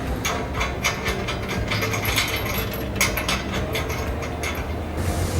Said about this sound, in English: So you want to tighten up these M8 bolts on the front first